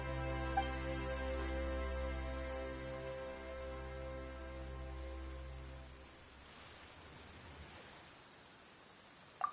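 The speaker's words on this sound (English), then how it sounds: "Why is it raining all of a sudden?" Steady rain patters over a low, sustained hum in the video game Genshin Impact, then the hum drops away and the rain continues more thinly, quiet and even.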